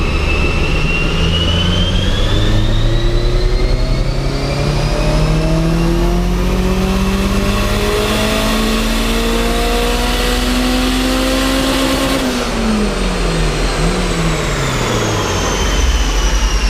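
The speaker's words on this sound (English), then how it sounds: "Okay, so here we got our first pull" A turbocharged Honda S2000 engine on a dyno pull, revving loud and close as the pitch climbs steadily through the gears of the pull, then drops sharply near the end as the throttle closes, with no talking over it.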